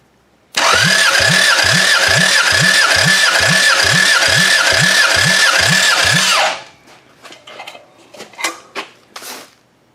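A used motor, once nearly blown up, cranks with a steady rapid rhythmic chug for about six seconds and then cuts out, followed by a few scattered clanks and knocks. The sound is loud and close, with no talking.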